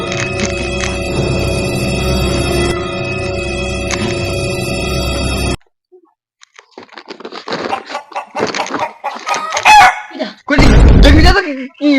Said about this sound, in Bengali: মুরগিটা কিরকম ক্যাক ক্যাক করছে।